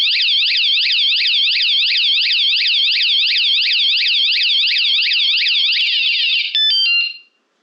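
A battery-operated motorcycle anti-theft alarm wails loudly and close, a rapid repeating electronic warble cycling evenly for about six seconds before breaking into stuttering beeps and cutting off.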